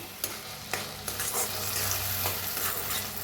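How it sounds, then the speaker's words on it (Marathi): Chopped tomato and onion roast in a pan for a masala egg dish. A spatula stirs and scrapes in a few distinct strokes over a continuous close sizzle, with no talking. "छान भाजले बघा टमाटो कांदा छान भाजलाय असा"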